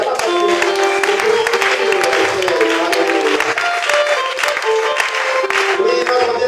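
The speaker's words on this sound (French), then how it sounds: "Appréciez encore le Seigneur par des acclamations." Church congregation applauding and cheering during a worship service, with loud continuous clapping mixed with voices and sustained tonal music or singing underneath.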